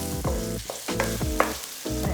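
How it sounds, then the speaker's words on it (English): Carrot and garlic stir-frying in a hot pan for Thai fried rice, a close sizzle punctuated by rhythmic scraping strokes of a spatula about every half second, loud and continuous with no voices. "It keeps stirring because I don't want garlic to get burned."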